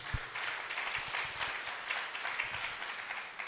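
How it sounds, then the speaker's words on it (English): A modest round of applause at a regional knowledge-sharing meeting, scattered clapping from a smaller audience, fairly soft and steady throughout. "We can give him a round of applause for that too."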